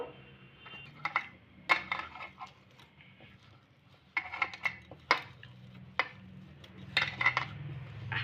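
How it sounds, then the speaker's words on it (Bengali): Boiled potatoes are mashed by hand in a metal bowl, with irregular clinks, taps and squishy scrapes scattered over several seconds, close and fairly quiet, with no talking. "আলুটাকে আমি হাতে করে ম্যাশ করে নেবো"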